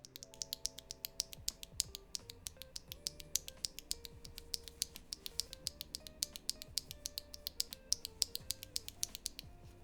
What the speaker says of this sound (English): There's a big top out sound that comes from these switches, and it's really, really heavy.